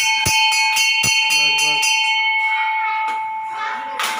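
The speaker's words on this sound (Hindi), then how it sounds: "घंटी बजा रहा हूँ।" A metal bell at a Shiva (Shankar) temple in a Gujarat village, struck several times in quick succession with a bright ringing tone that lingers and decays, close and loud, with people talking in the background.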